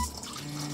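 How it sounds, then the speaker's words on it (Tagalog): Water poured into a saucepan on a home stove, to be boiled for melting chocolate; a brief, soft splashing and trickling rush, close but quiet. "Kaserola. Maglalagay na tayo ng tubig."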